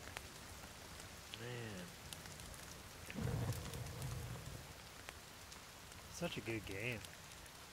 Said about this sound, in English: All the noises in this game are so creepy, with the rainfall and the trees rubbing against each other.